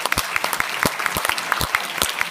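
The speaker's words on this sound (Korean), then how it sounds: "회장님께 다시 한번 큰 박수 부탁드립니다." Steady, lively applause from a lecture audience fills the hall, dense clapping throughout at close range and fairly loud.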